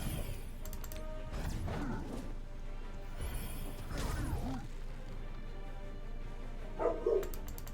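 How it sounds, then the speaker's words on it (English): A big dog barks a few times in the background, faint and distant beyond a room, set against a steady low hum with occasional knocks. "Had to momentarily mute because the dog was barking."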